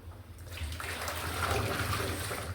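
Hot water gushes and splashes steadily as it is poured off boiled potatoes, a continuous close rushing sound with no voices.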